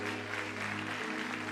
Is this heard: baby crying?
no